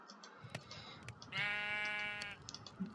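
A sheep bleats once in a long, wavering cry in Minecraft, fairly close, amid faint background clicks and game-like ambient noise.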